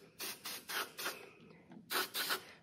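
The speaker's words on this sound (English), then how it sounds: "The first thing I wanna do is spray with silicone" Short bursts of silicone spray hiss onto foam during a diamond tufting job, five quick puffs in a row, a pause, then two more, close and fairly soft.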